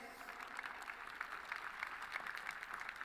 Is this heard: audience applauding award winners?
yes